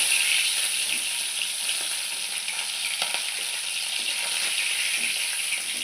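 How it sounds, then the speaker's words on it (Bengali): Rita fish frying in hot mustard oil in a covered pan make a loud, continuous close sizzle, broken by frequent small spluttering pops. "এই মাছগুলো খুব ফাটে তাই চাপা দিয়ে মাছগুলো ভেজেছি এখনও ফাটছে"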